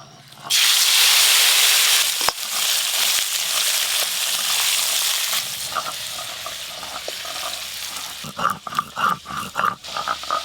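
Lightly fried small fish tipped into a hot pan of oil for a stingray curry burst into loud, steady sizzling, the hiss holding strongly before stirring clatters and a voice come in toward the end.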